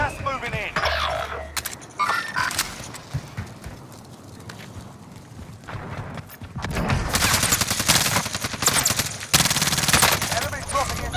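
Bursts of automatic gunfire and scattered shots crackle through a Call of Duty Warzone Rebirth firefight on a rooftop, loud and dense in places, while voices talk over parts of the action.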